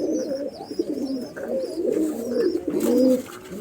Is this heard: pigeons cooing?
yes